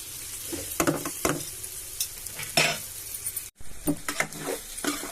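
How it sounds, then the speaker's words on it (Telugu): Bitter gourd pieces sizzling in a frying pan while being stirred, with a steady soft crackle broken by a few louder scraping strokes and a brief pause. "ఓకే, ఇంకా వేగాలి ఇవి. ఇంకొంచెం వేగిన తర్వాత మనం నెక్స్ట్ ప్రాసెస్లోకి వెళ్దాం."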